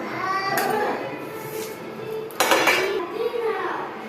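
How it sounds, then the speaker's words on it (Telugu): Tamarind leaves roasting in a metal pan, with clattering and scraping of a spoon against the pan in a few sharp bursts, while a voice sounds in the background. "ఇప్పుడు చింతాకు కూడా లైట్గా వేపించేద్దాం"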